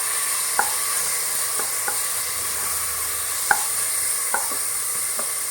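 Ginger and garlic frying on a medium flame for a fish-head muri ghonto, a steady soft sizzle and hiss with occasional clinks of a stirring spoon against the pan, close and alone.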